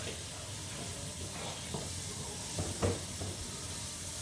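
Homemade goulash sizzles in a skillet on the stove with a steady hiss, faint stirring knocks and a soft scrape or two rising briefly near the end.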